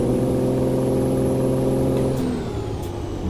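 Heavy truck in American Truck Simulator hauling a 120,000-pound trailer, engine roaring steadily under full throttle, then the pitch drops and the sound eases as it shifts, loud and close with no talking.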